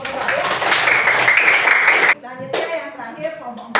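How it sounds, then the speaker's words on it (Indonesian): A classroom of students applauds group 2 in a dense burst of clapping for about two seconds, then it cuts off abruptly and a voice speaks, with another short flurry of claps. "Silakan beri tepuk tangan dulu pada kelompok 2 ya."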